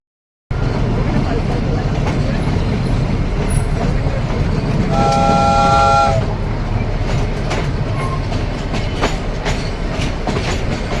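Nilgiri toy train rolling from Ooty to Coonoor through tall eucalyptus forest, a steady loud rumble and rattle of wheels throughout with a brief horn or whistle toot around the middle.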